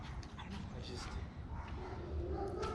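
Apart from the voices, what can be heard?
dogs barking and howling in the background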